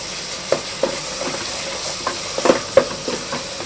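Ginger garlic paste and chopped onions stirred in a frying pan, with soft sizzling and a few light scrapes and knocks of the spoon spread through the moment.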